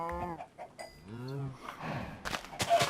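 A few Minecraft cows moo in low, drawn-out calls, one after another, followed by scuffling, game-like ambient noise at the end.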